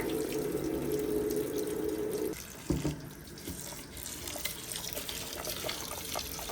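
Water running steadily from a tap into a sink while rice is rinsed, a constant rushing splash with a brief break and some clattering before the flow carries on.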